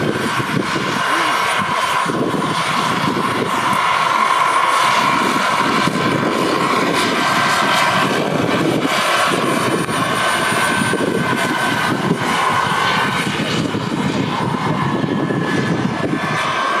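A radio-controlled model turbine helicopter flies at a model show flight line, giving a steady, loud whine and rotor roar that holds without a break for the whole stretch.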